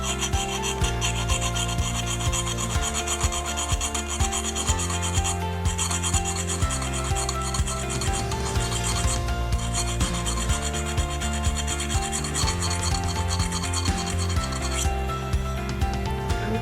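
A metal file rasps steadily against the dull blade edge of flower clippers, a continuous loud gritty scraping with rhythmic back-and-forth strokes and no talk.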